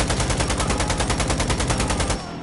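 A machine gun in Insurgency: Sandstorm fires one loud, close, unbroken burst of rapid, evenly spaced shots for about two seconds, then stops abruptly.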